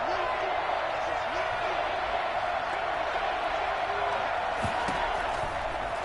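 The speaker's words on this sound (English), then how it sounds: "the crowd getting into it as we come up on a big 3rd down" Football stadium crowd cheering ahead of a big third down, a dense, constant roar of many voices heard from a distance, with no clear breaks.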